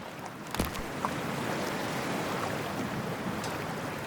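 A character dives into freezing water in Cyberpunk 2077, heard as steady rushing water and wave wash with a splash near the start, alone with no talking.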